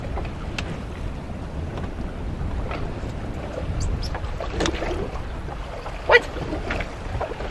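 Wind blows across open water around a drifting fishing boat, a steady rushing noise with microphone buffeting and light water sounds throughout, plus a brief knock near the end.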